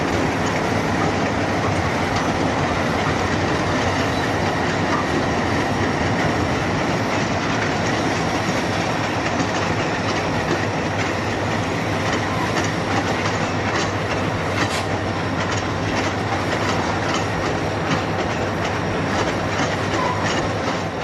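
An Erie Lackawanna freight train rolls past pulling empty cars, loud and close, with steady rumbling and rhythmic clickety-clack of wheels over rail joints and occasional sharp squeals throughout.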